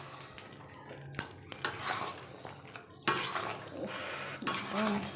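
Metal utensils scrape and clink against a pan in irregular bursts as spices with chilli powder are stirred, close by, with brief pauses between strokes.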